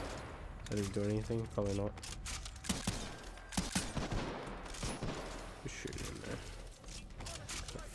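A grenade launcher (MGL) in Titanfall 2 fires a rapid string of sharp blasts and bursting explosions layered with game sound effects and music, while a person speaks briefly over the action.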